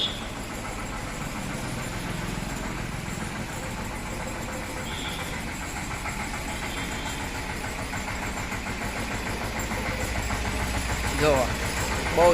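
A tractor engine runs as the tractor is driven and steered, a low, steady rumbling drone that grows slightly louder near the end, with people talking over it throughout.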